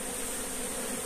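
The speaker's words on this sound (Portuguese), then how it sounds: "as abelhas engenheiras estavam trabalhando aqui em cima disso" Africanized honey bees swarm over a hive frame, producing a dense, steady buzzing drone that holds at an even level throughout, with no voices over it.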